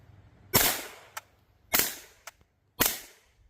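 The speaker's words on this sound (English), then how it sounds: "This gun is hearing safe, shoots well, and delivers on its promise of being a premium subgun." B&T SPC9 subgun firing: three sharp, close reports about a second apart, each with a short decaying tail and a brief mechanical clack after it, and no talk.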